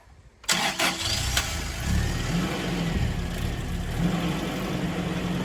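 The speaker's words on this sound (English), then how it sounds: "do a little bit of a cold start for you" A Toyota Liteace van's engine cranks briefly and fires up on a cold start, then settles into a loud, steady close-up running note with slight throttle rises.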